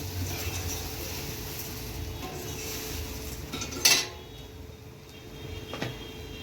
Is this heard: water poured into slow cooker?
no